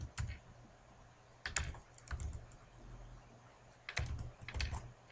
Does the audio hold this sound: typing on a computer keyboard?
yes